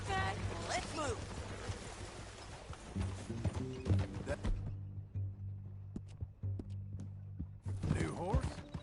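Horse hooves clip-clopping at a steady rhythm in the video game Red Dead Redemption 2, mixed under game music and voices talking, with a brief neigh-like sound and a quieter stretch midway.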